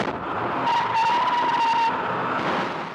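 A stolen bait car tears away from approaching police with a loud engine roar and a sustained, high-pitched tire squeal that fades after a couple of seconds. The sound is close and there is no talking.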